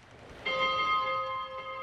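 A ship's bell in the video game Spiritfarer rings once, starting with a bright clear strike and then sustaining a long shimmering tone that slowly decays.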